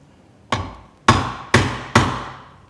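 Four sharp hammer strikes drive an Irwin Marples split-proof carpenter's wood chisel into wood, each a crisp close impact with a short ringing decay, spaced about half a second apart.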